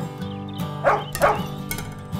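Two short dog barks ring out over a bright, upbeat Spanish-language children's farm song, each bark sitting clearly above the steady music and backing instruments.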